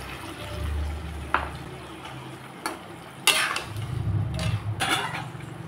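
Spice water rinsed from a mixer jar pours into a pan of cauliflower and potato curry, a low steady rush and sizzle with a few sharp utensil knocks against the pan, close up and without speech.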